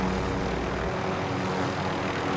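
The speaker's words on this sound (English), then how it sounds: "Sitting in a helicopter is fun." An aircraft engine drones in a video game, most likely a helicopter, a loud, constant rumble with a deeper hum that drops away after the first second.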